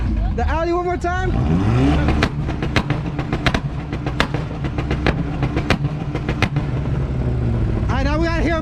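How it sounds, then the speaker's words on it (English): Audi car at a street car meet two-step contest, revving in short bursts then bouncing off the limiter with sharp popping crackles, close and loud, with crowd voices mixed in. "The Audi one more time."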